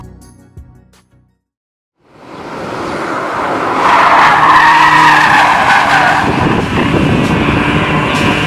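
A MINI car skids hard on a racing circuit, tires squealing loudly and steadily for several seconds under a roaring engine, after a brief quiet start with no talk.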